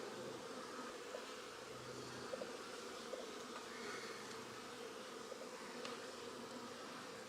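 About a dozen honey bees buzz around a push-in queen cage holding a queen cell, a continuous close, droning hum with slight shifts in pitch and no talking.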